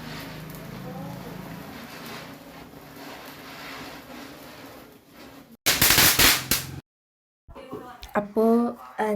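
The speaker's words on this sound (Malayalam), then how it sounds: "അപ്പോൾ നമ്മളിവിടെ പടക്കമൊക്കെ പൊട്ടിക്കുന്നുണ്ട്." Diwali firecrackers burst close by in a quick crackling volley, loud sharp cracks after a stretch of background chatter, with voices returning afterward.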